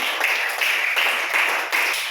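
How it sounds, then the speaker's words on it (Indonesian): An audience claps together in a teacher's classroom session, a steady patter of many hands for about two seconds with brief dips in rhythm. "tepuk tangan untuk kita semua"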